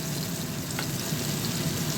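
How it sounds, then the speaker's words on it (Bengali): Raw green banana koftas frying in a pan of oil make a continuous close sizzle that holds at a steady level. "সব কোপ্তাগুলো দিয়ে দিয়েছি, এবার একটু ভাজা হবে ভালো করে"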